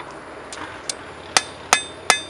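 A hammer flattens a steel skinning knife blade during rough forging. Several sharp, ringing metallic strikes come at a quickening pace, the last three loudest and each fading with a short ring.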